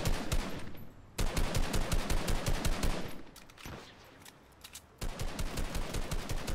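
Rapid automatic gunfire in the Fortnite video game comes in dense bursts of sharp, evenly spaced shots with a short lull between volleys.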